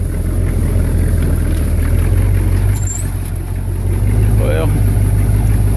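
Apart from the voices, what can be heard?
hot rod motor running and idling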